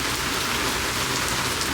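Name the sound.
rain falling outside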